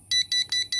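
Four sharp, piercing smoke alarm beeps pulse in a rapid, regular rhythm, loud and close.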